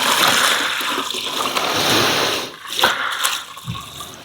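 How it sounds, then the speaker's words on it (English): Water pours steadily into a garden pond with a continuous close rushing splash, easing slightly near the end, and no voices. "So I'm going to fill the pond up, I think."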